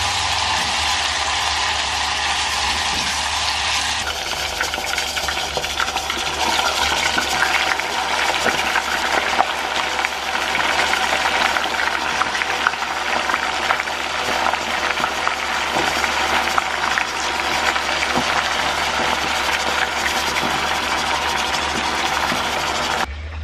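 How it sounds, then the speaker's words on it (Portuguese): Garlic sautéing in a pan to season cooked beans, a steady loud frying sizzle that runs continuously and alone, growing slightly denser partway through. "agora eu vou refogar esse alho aqui pra fritar e temperar o feijão aqui"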